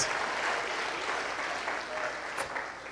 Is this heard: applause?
yes